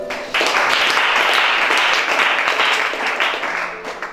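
Audience applause at a Gabonese church gathering led by a prophet, loud continuous clapping from a crowd that holds steady for several seconds before tapering off, with faint voices mixed in.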